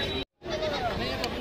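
A Sojat goat bleats at a busy Sunday riverfront goat market, a short wavering bleat rising over the steady babble of many voices in the crowd, with a brief gap of silence near the start.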